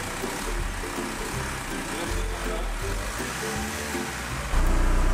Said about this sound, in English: The engine should be running on idle and on increased RPM.